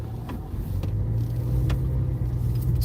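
Car imported from a bond yard in Uganda, a steady low engine rumble close by with a few faint clicks over the top, no talk.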